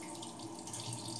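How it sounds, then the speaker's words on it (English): Water runs steadily from a tap into a sink during a shave, a continuous close hiss with no speech over it. "I'll get some water on the face"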